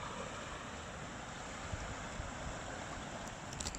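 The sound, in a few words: sea waves on Lytham seafront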